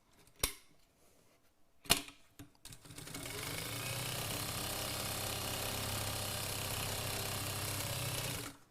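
An industrial sewing machine with a manual foot and manual reverse stitches a bag. A few sharp mechanical clacks come first, then a sustained, even whir of stitching running close until it stops near the end.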